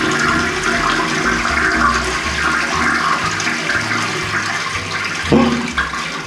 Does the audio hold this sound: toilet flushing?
yes